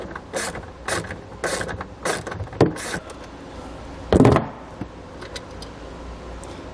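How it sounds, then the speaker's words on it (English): A 10mm socket ratchet works a bolt loose from a factory ground point on a 2016 Mitsubishi, giving quick clicking bursts in short repeated strokes, close and fairly clear, with a louder metallic clunk partway through. "So pull that bolt out using a 10mm socket."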